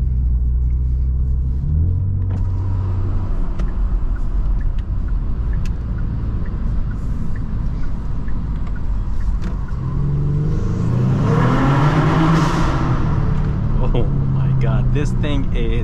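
A tuned 2023 Genesis G70 with roughly 500 lb-ft of torque rumbles deeply under acceleration, its engine note climbing and swelling near the end, with a person talking over it from inside the car.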